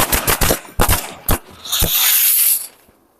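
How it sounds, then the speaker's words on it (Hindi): A Cobra Diwali firecracker set off at night goes off in a quick burst of sharp cracks, four or five loud bangs within about two seconds, then a short hissing crackle that fades away. "चलिए इस कोबरा पटाखे में फटाफट से आग लगाते हैं।"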